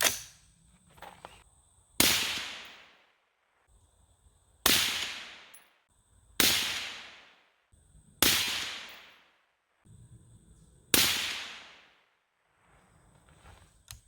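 Daniel Defense DD5 V3 .308 rifle firing five steel-cased 145-grain Barnaul rounds at a range: five loud, sharp cracks spaced about two seconds apart, each followed by a long decaying echo, with faint shuffling between shots.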